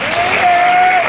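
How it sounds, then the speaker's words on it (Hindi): A crowd at a kabaddi match applauds loudly for the commentator, with dense, continuous clapping and cheering that fills the whole moment. A whistle-like tone holds steady over the top. "उनके लिए जरा जोरदार ताली बजा दो"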